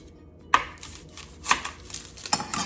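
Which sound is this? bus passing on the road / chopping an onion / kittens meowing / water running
chopping an onion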